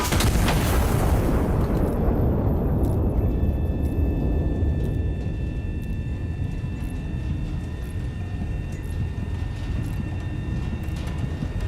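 A single loud turret cannon boom in the game Iron Nest: Heavy Turret Simulator rings out, followed by a long rumbling decay with faint high tones lingering.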